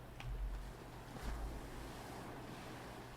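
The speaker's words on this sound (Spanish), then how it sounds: "Ahí se oye de fondo ahora un poco más el mar" Sea waves wash as a steady, faint background ambience in a video game, a soft continuous surf roar with a couple of gentle swells.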